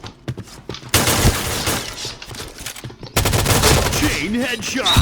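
A Scar L rifle in Point Blank fires at close range in rapid, loud bursts, one short then a long sustained volley, with a brief pause between them.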